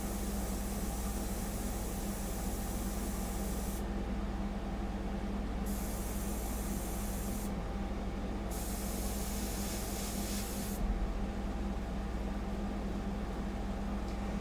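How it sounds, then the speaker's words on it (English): An airbrush sprays paint onto a sepia fine-art portrait: a steady, close airy hiss over a low hum, with bursts of brighter spray that start and stop several times. "Is the distance of the airbrush to the surface of your painting."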